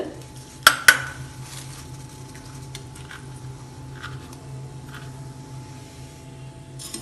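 Black pepper, cumin and coriander seeds are dry roasted in a pan for a prawn masala: two sharp metallic clatters, then quiet, intermittent stirring and scraping over a low steady hum.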